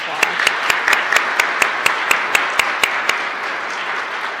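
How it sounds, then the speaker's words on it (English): An audience applauds a national anthem singer at an event: a wash of crowd clapping with regular sharp claps punctuating it, steady and fairly loud before tapering slightly. "Give her a round of applause"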